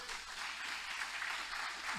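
A church congregation claps together in a steady, rolling applause that sounds distant and fairly quiet in the large room, with a faint murmur of voices underneath.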